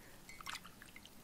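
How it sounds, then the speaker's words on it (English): Water mixed with colour paint gives soft, close drips and small liquid plops, a quick cluster of delicate wet sounds over quiet background. "I'm playing with water. I'm mixing the water with colour."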